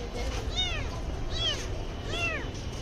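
A small kitten in a brick-paved courtyard meows three times, each cry clear and close and spaced about a second apart, over a steady background hiss.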